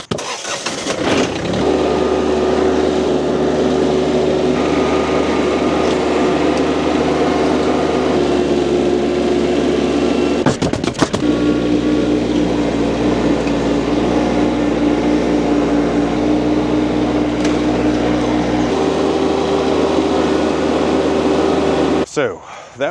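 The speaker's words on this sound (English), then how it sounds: "we're gonna see if that tractor can lift this 900-pound pallet off." A small tractor engine lifts a 900-pound pallet of concrete bags with pallet forks, running loud and close with steady droning tones that shift pitch as the load rises, and brief clunks near the midpoint and end.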